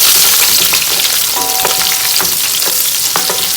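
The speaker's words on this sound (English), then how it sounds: "Sizzle, sizzle, sizzle." Onions and peppers sizzle loudly in a hot pan, a steady crackling hiss with occasional stirring scrapes.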